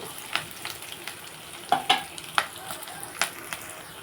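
Hot oil crackles and spits as spices hit the pan, with several sharp pops and a few louder bursts over a soft sizzle.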